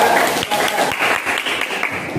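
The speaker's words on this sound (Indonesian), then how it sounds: "kasih tepuk tangan untuk kelompok 2" A classroom group of students applauds another group's project: dense, even clapping from many hands, fairly close and loud, holding steady throughout the short burst.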